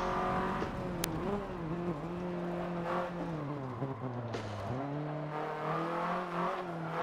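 Video game race car with an open exhaust, driven on a Logitech G920 wheel, its engine note rising and falling as it revs through gears, dipping low near the middle before climbing again, steady and close.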